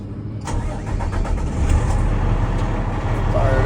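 The diesel engine of an International water truck cranks and catches, then settles into a loud, close, low rumbling idle.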